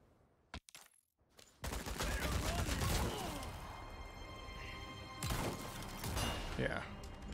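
Gunfire in Resident Evil 4 Remake: a couple of sharp shots, then a dense, loud burst of rapid firing and crashing impacts that continues, with a person talking over it.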